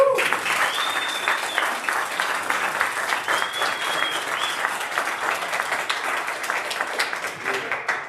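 Audience applause for a singer at a fire chief's retirement ceremony, a full steady crowd clapping for about eight seconds with scattered whoops and cheers rising above it.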